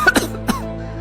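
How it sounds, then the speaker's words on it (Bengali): A cartoon boy coughs twice in quick, harsh bursts, close and clear, and the sound then trails off into quiet. "সে দেখতে পেল একটা ছেলে খুব কাশছে"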